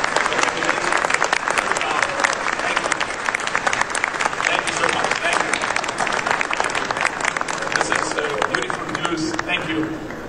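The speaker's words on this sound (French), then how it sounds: "Can we clap hands for them?" At a football federation meeting, members clap for newly elected executive committee colleagues. Loud, sustained applause from a packed room carries on for the full stretch, with voices audible beneath it.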